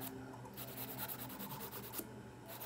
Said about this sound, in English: I'm filing and shaping and all that.